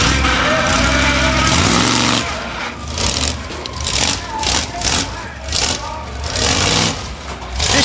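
A short wheelbase off-road truck at an ActionTracks off-road event in Madison, Indiana revs loudly, holding a steady roar before surging and dropping in uneven bursts, with a commentator talking over it.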